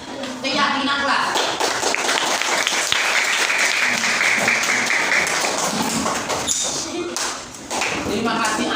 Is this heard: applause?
yes